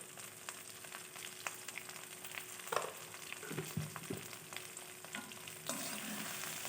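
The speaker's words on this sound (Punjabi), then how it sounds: "ਹੁਣ ਇਹਨੂੰ ਕਰਾਂਗੇ ਥੋੜ੍ਹਾ ਜਿਹਾ ਫਰਾਈ। ਫਰਾਈ ਕਰਦੇ ਹੋਈਆਂ ਨਾਲ ਅਸੀਂ ਪਾ ਦੇਣਾ ਥੋੜ੍ਹਾ ਜਿਹਾ ਨਮਕ" Chopped okra frying with salt in a pan, a steady soft sizzle with scraping stir sounds partway through and a slightly louder hiss near the end.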